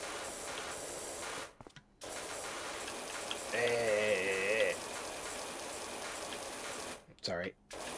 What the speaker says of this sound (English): I just want to spray this shit